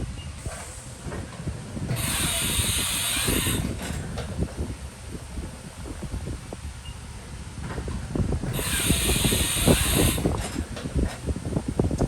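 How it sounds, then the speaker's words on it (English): A 2004 Haas VF-2B CNC vertical machining center performs a tool change: two bursts of hissing air bracket a series of clunks and mechanical clicks, close and moderately loud. "Show the tool change"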